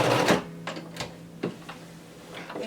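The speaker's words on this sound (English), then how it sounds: "Sew forward and then back stitch." Sewing machine back stitching on a shirt seam, a few quick faint mechanical bursts and clicks in a quiet room.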